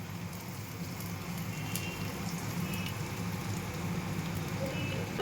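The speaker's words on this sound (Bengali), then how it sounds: "আদা রসুনের পেস্টটা দিয়ে দিলাম। এবার আমি লো ফ্লেমেতেই একটু নাড়াবো" Ginger garlic paste frying in a pan over a low flame, a continuous soft bubbling sizzle with light patter and small pops throughout.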